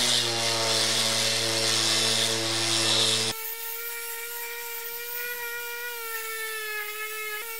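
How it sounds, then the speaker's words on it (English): A power sander works cured heat-resistant filler on the guard of a 54-year-old vintage tiller. A high motor whine with gritty hiss drops after about three seconds to a quieter, steady tonal hum. "and then it can be sanded"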